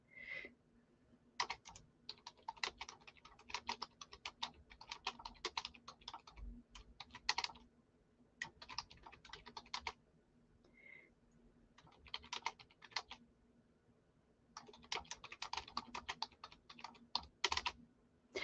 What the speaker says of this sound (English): Let me type it to her